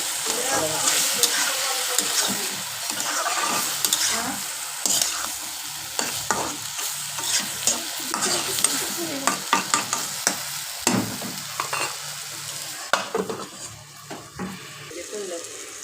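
Ridge gourd frying with egg in a pan gives a steady sizzle, with frequent scraping and clinking as it is stirred. The sound stays close and fairly loud throughout, and light talk comes through in places.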